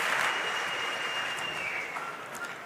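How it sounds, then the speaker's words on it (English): A crowd at the Rubik's WCA World Championship finals claps and cheers for a cube solve, producing a steady wash of applause that slowly fades. "he gets a shot of the crowd cheering for him"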